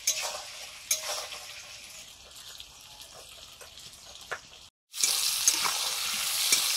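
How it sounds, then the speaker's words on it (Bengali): Potatoes fry in oil in a pan with a bright, steady sizzle and occasional stirring clinks. After a brief silent break, a louder, fuller sizzle follows. "আলু ভাজা হয়ে গেছে।"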